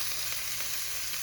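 Half a batch of onions sautéing in a little olive oil for a budget Polish dish, giving a steady, close sizzle with an even hiss and no breaks or voices.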